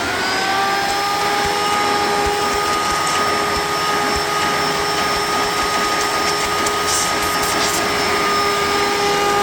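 A Hoover Elite Supreme upright vacuum cleaner runs steadily and loudly with a high whine and airy rush, with faint bumps and rattles from the hose moving.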